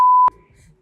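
A censor beep during a conversation: one loud steady electronic tone lasting about a quarter second, cutting off abruptly into faint background murmur.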